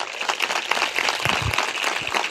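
A church congregation claps loudly and steadily at a sermon gathering, dense applause filling the whole span with a few low thumps mixed in.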